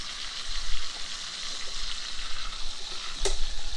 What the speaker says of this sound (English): Holding your meat so you can sear it all the way around.